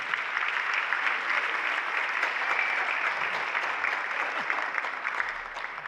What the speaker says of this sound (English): So can you give all of them a round of applause?